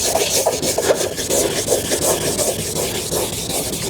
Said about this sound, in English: You can actually see the cloudiness getting less cloudy as you go up in sandpaper.